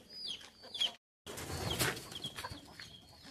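Breeder hens on a poultry farm cluck in short scattered calls, fairly close, with rustling and a brief wing flap, broken by a moment of silence midway.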